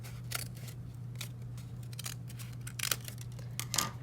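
Scissors cutting through folded paper for a collage mask, a series of crisp close snips spaced irregularly, with a brighter cluster of cuts near the end over a faint steady hum.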